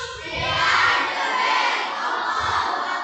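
A crowd of junior high school students shouts a group cheer chant in unison, loud and close, one sustained burst of many voices filling the room.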